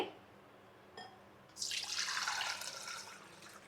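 Tomato rasam liquid with salt and water is strained, starting with a faint tap and then a soft, steady pour of liquid running through for a couple of seconds before it eases off.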